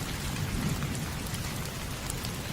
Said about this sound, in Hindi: बारिश उनके सिर पर पड़ रही है